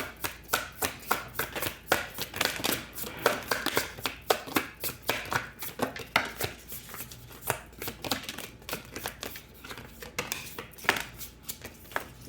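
Tarot cards are shuffled by hand in rapid repeated riffling bursts, close and crisp, continuing steadily with a brisk uneven rhythm and no talk over them.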